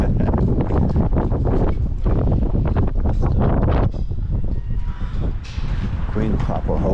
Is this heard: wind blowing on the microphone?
yes